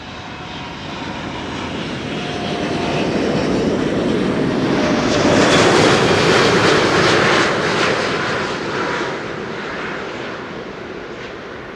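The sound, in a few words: airliner landing, engine thrust reversers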